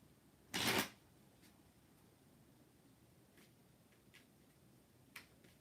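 One quick riffle of cards, then a few faint taps and clicks in near-silence.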